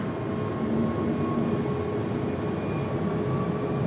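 An Aer Lingus Airbus A321XLR jet departing Raleigh Durham airport gives a steady, continuous broadband roar that stays level and fairly loud throughout, with no talk.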